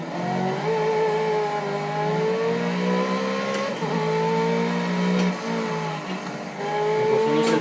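A car accelerates hard around the Bugatti racing circuit at Le Mans, its engine note climbing through several gear changes in a steady, loud drone with no one talking.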